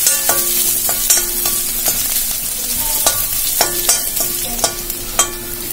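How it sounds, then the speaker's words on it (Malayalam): Chopped shallots and curry leaves fry in hot oil for a Kerala pork curry with kappa, a steady close sizzle broken by sharp clinks and scrapes of a spoon stirring the pan, with no voices. "ഇതിലേക്ക് ചെറിയുള്ളി അരിഞ്ഞത് ഇട്ട് കൊടുക്കാം. ഇനി ഇതിലേക്ക് നമുക്ക് കറിവേപ്പില കൂടി ഇട്ട് കൊടുക്കാം."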